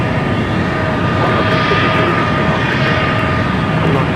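An Atlas Air cargo jet, flight 8174 from Mexico City, comes in to land on runway 24 right at LAX, its engines a loud steady roar with a broadband rush and a faint whine holding throughout.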